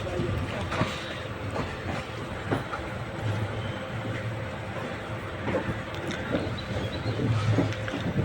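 A passenger train between Erode and Mettur at Salem Junction, heard from inside as a continuous low rumble with occasional clicks and clanks, steady and fairly loud throughout.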